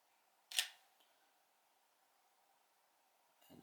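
A camera shutter, fitted with a Zeiss Batis lens and shooting at f4, fires once with a sharp, bright click, followed by a quiet pause and a faint second mechanical sound at the very end.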